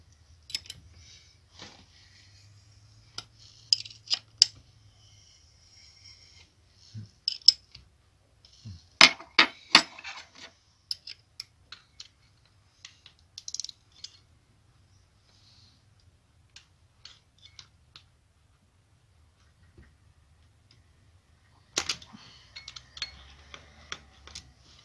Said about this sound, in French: j'enlève l'écrou, j'enlève le vis